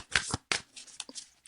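A deck of tarot cards is shuffled by hand in a few quick riffling bursts, close and crisp, with short pauses between them and no talking.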